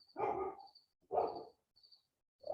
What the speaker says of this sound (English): What are those guys barking about, Moose?